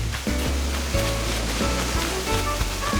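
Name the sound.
waterfalls in the video game Animal Crossing: New Horizons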